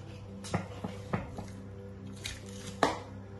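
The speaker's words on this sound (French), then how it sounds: "Donc on va y couper les jambonneaux." A butcher cutting pork hocks at a butcher's counter: several sharp, close knife and cleaver chops on a board at irregular intervals, the last one the loudest.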